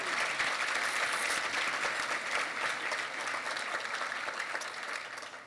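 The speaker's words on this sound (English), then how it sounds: "let's give Julie a round of applause" A packed award-ceremony crowd in Houston breaks into loud, full applause for a bank executive. The clapping is thick and sustained, then eases off slightly toward the end.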